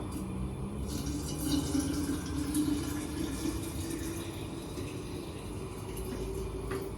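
Sugar syrup being poured into a container while preparing homemade winter preserves, a steady liquid stream splashing and filling for several seconds at close range, with no talk.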